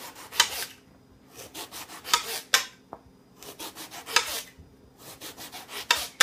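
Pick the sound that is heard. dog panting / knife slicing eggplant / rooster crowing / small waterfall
knife slicing eggplant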